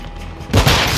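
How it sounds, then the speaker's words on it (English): A flashbang grenade goes off in Call of Duty Modern Warfare 2 multiplayer: quiet game ambience, then a sudden loud bang that leaves a sustained ringing, noisy wash. "Flash out!"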